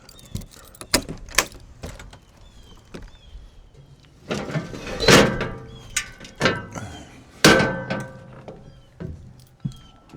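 A camper door handle rattles against a locked door in a series of sharp metallic clicks and jiggles, with heavier clunks of tugging at the door midway, close and fairly loud.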